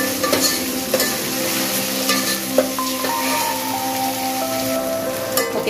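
Ginger garlic paste frying with onions in a pan for a raw mango murrel fish curry: loud, close, rain-like crackling sizzle with occasional spatula knocks, and no talking.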